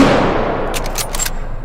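A short burst of several rapid gunshots from the virtual-reality shooter H3VR (Hotdogs, Horseshoes and Hand Grenades) cracks out near the middle, set over a steady low rumble of game ambience.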